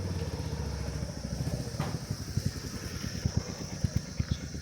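A motorbike pulls up beside a roadside homestay in Lava, its engine idling with an uneven, chugging pulse that grows punchier toward the end, close by and fairly loud.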